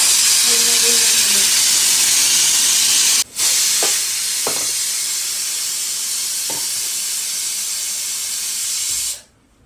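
Steam hissing steadily from a pot of village-style chicken curry on the gas, a loud continuous close rush with a few brief clicks, cutting off abruptly near the end.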